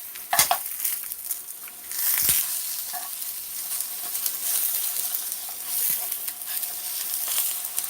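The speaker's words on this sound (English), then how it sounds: "So basically what we're doing with the sweet plantains, we're caramelizing the sugar inside and give it a roasted taste" Sweet plantains caramelizing in a pot, sizzling and frying steadily and close up, with occasional stirring scrapes and clacks over the continuous crackle.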